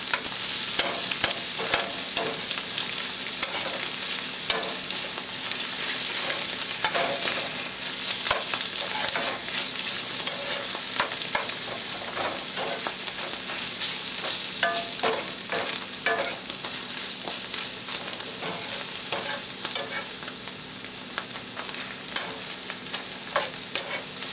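Turkey and chanterelles frying in an old iron skillet while being stirred, with a loud, continuous sizzle broken by frequent scraping stirs of the spoon, and no talking.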